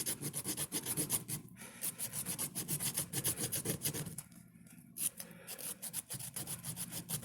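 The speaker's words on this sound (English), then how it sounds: "it may sound like it's making a big scratching noise, but I'm telling you, man, it doesn't hurt the metal at all" Rust is scrubbed off metal back springs with a harsh, rhythmic scratching and rasping, close and loud. Quick back-and-forth strokes repeat steadily with a few short pauses.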